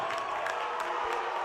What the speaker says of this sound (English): Yep, and the crowd disagrees.